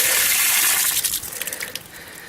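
An outdoor tap runs during an ice storm in Pensacola, Florida, its flow slowing as the pipe starts to freeze. A loud hissing gush opens, then fades into an uneven, sputtering trickle.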